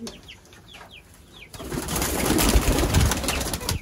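A Sialkoti breeder pigeon gives a few soft chirping calls, then a sudden burst of loud, close wing flapping as it is caught by hand and keeps struggling.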